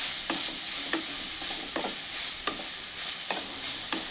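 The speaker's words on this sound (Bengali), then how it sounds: "এটাই এই দিয়ে আমি নাড়াচাড়া করে নেব।" Papaya sandwich filling with salt is stirred in a hot pan, making regular scraping strokes about every three quarters of a second over a constant sizzle.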